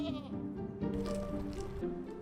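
Goats bleat repeatedly on a steep hillside in a sustainable landscaping setting, their wavering cries overlapping close by across the whole stretch, with no talk.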